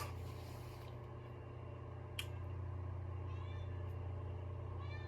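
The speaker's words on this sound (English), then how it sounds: "ignore my cat, she's gonna be on a lot" A pet cat meows faintly a few times in a room over a steady low hum, with one sharp click midway.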